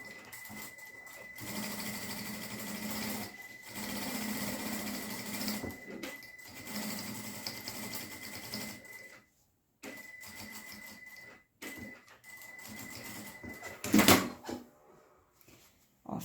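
A sewing machine stitches lining onto main fabric in fast whirring bursts, pausing and restarting several times, with a short sharp clack near the end.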